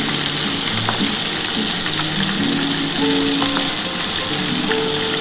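Tilapia fish pieces frying in hot oil, a dense steady sizzle and crackle close by with occasional light pops and faint utensil sounds.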